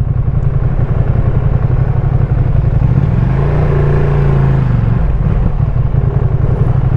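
A Ducati Streetfighter V2 engine rumbles loud and close while riding through traffic, its steady low drone rising briefly in pitch midway as the throttle opens, then settling back.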